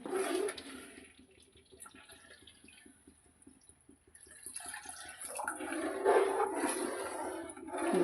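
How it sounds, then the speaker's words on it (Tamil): Thick first-press coconut milk pours into a cooking pot, a liquid gush that starts loud, fades to a quiet trickle, then swells again into a fuller splashing pour. "நான் இப்போ தலைப்பால் ஊற்றுறேன்"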